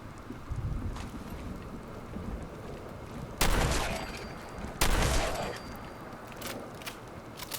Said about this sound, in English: lots of gunfire somewhere in the distance